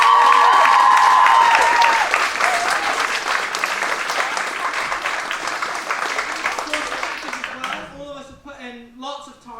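A theatre audience at a school house drama adjudication applauds loudly and steadily, dense clapping from a large crowd that fades over several seconds, with voices speaking as it dies away.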